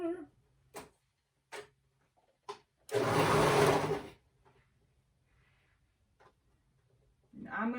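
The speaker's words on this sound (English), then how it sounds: "Sewing the bodice together." Sewing machine stitching the bodice of a maxi dress in a single steady run of about a second, preceded by a few short clicks and taps, fairly close and alone.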